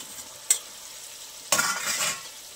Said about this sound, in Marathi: आता आपण त्यामध्ये आपला पास्ता घालून घेऊया